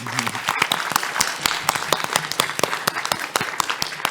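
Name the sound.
audience applause at a live panel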